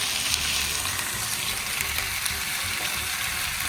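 Oxtail pieces dropped into a hot pot for hangover soup, giving a steady, close hiss of sizzling fat and broth that runs unbroken with faint clinks, no talking.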